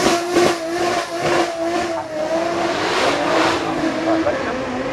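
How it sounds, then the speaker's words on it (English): An Aston Martin DBX drives up the hill at the Goodwood Festival of Speed toward a corner, its engine note rising and falling over a noisy crowd, and a commentator talks over the car. "You've also then got the DBX behind, going up, there it is, to Walton Corner."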